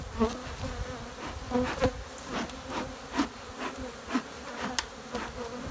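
Agitated honey bees buzz continuously around an opened hive during requeening, a dense droning swarm with many individual insects swelling and passing close, no voices.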